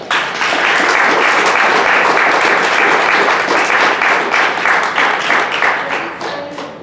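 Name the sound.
audience applause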